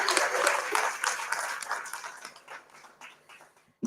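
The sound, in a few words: audience clapping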